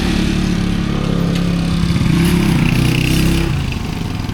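A motorcycle engine runs loud and close, a steady throbbing drone that swells a little midway before settling back down.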